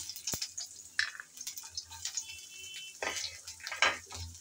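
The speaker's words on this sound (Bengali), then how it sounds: "গরম তেলে আমি পাঁচফোড়ন দিয়ে দিলাম রসুন কুচি দিলাম" Panch phoron and chopped garlic sizzling in hot oil in a pan, soft crackling bursts and a few stirring scrapes, fairly quiet and close, with no talking.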